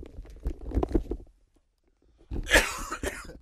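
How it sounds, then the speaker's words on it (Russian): A man coughs several times in a room, two short bursts separated by a moment of silence, the second burst rougher and louder. "Это я с кашлем борюсь"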